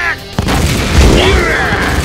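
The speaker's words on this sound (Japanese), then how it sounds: "ヒルムナ、狙いを定め、一箇所に集中射撃だ。 撃て" Heavy cannon fire in a Japanese fantasy audio drama booms in a loud, rumbling volley with a sharp crack near the start, mixed with dramatic effects and voices.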